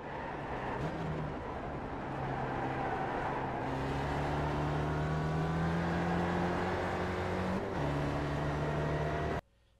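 Spec Racer Ford race car at VIR North in iRacing, engine note climbing steadily under full throttle through gear changes, a loud continuous drone with brief shift dips, cutting off abruptly at the end.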